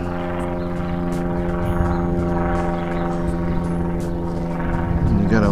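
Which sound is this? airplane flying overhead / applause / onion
airplane flying overhead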